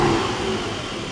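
A cold Porsche 718 Cayman GT4 with the 4.0 engine and manual gearbox revs gently to about 2,500 RPM, a brief close, steady mid-pitched engine drone that eases back slightly.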